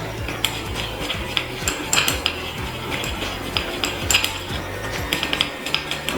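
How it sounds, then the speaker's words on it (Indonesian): A clear ethanol solvent and base oil mixture for a homemade reed diffuser is stirred in a container, giving close, rhythmic clinks and scrapes of the utensil against the sides. "Setelah itu kita aduk."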